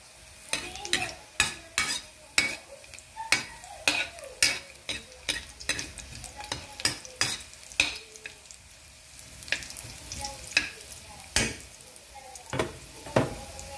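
Vegetables for pakbet brown in a pan, with a utensil scraping and knocking against it in a steady, repeated stirring rhythm over a soft sizzle, close up.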